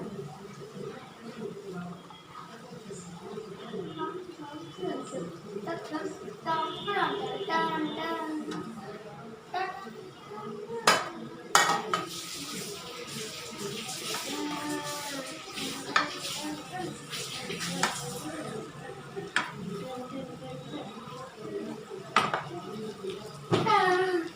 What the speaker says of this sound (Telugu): బంగాళదుంపలు కొంచెం వేగాక పొటల్స్ వేసుకోవాలండి.